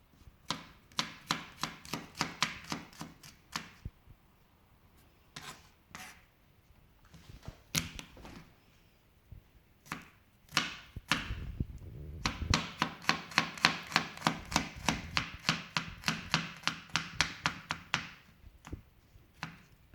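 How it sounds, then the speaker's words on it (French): Garlic being crushed and then chopped with a knife on a board, sharp wooden knocks in quick rhythmic bursts separated by short pauses, with a fast steady run of chops near the end, close and clear with no talk. "Moi j'écrase toujours avant de couper un petit morceau."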